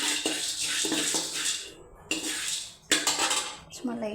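Roasted gram being dry-roasted in a pan and stirred, heard as rattling, scraping clinks of dry pulses against metal in several bursts with brief pauses, fairly close.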